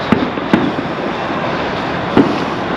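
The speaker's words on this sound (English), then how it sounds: "you can hear gunshots off in the distance." Distant gunshots echo across a city near an RV park in St. Louis, three sharp cracks spaced irregularly over a steady urban background hum.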